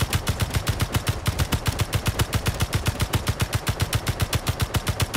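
Automatic gunfire in the video game Space Engineers, a loud, rapid and steady stream of shots fired at an even rhythm for the whole stretch without pause.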